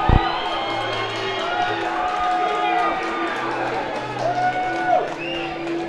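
A crowd cheers and shouts at a World Combat Series MMA event as a fighter makes his entrance, with a steady roar of voices running beneath a commentator's speech.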